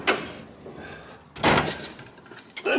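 A metal storage drawer stocked with aluminum rounds, plates and blocks slides open in a workshop. Three loud scraping, thudding bursts come up close, one at the start, a heavier one in the middle and another at the end, with no talking.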